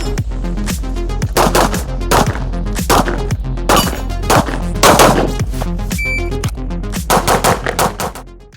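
Rapid bursts of pistol gunfire, a few hundred rounds shot through a handgun fitted with an SRS-8 red dot optic, crack out loud and close in quick irregular strings with brief pauses between volleys.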